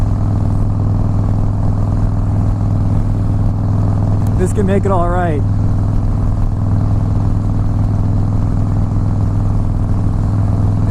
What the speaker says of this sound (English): The sound of the engine, that rumble